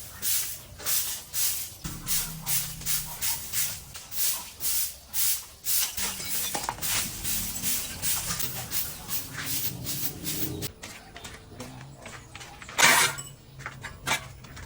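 Broom sweeping a floor outdoors in the morning: a steady rhythm of brisk, scratchy swishes, about two per second, fairly close, with a louder stroke near the end and no talking.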